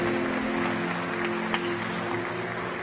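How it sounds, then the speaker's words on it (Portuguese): Church congregation applauding during a service, continuous broad clapping at an even level with a sustained tone beneath, filling the room steadily throughout. "Se eu fosse você, eu aplaudia mais forte,"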